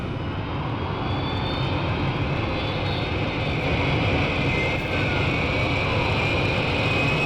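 A fixed-wing airplane taking off, a loud continuous engine roar with broad rumbling noise and a steady high whine, sustained and close throughout with no voices.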